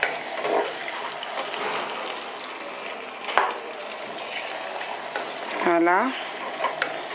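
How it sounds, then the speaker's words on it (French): Spices with crushed onion, ginger and pepper frying in a pan while being stirred: close, bright sizzling with scraping utensil sounds, and a person briefly speaks near the end. "Je remue."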